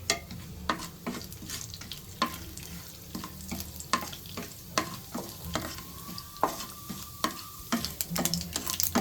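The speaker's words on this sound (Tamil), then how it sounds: "கடலை எண்ணெய் ஊற்றிருக்கேன். கடுகு, உளுத்தப்பருப்பு, கடலைப்பருப்பு, காஞ்ச மிளகாய் 1 எல்லாம் போட்டு வடிக்க விடலாம்." Mustard seeds, urad dal, chana dal and a dried red chili splutter in hot peanut oil for semiya upma, giving a close, steady sizzle punctuated by frequent sharp pops and crackles.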